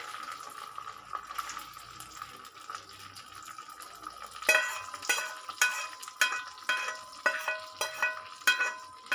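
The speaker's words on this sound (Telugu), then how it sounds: "ఇప్పుడు ఈ తాలింపు మొత్తం ఇందులోకి వేసేసుకుందామండి" A tempering of curry leaves is poured into semiya daddojanam and then stirred: a quiet start, then a regular run of sharp scraping and clinking strokes against the vessel, with no talking.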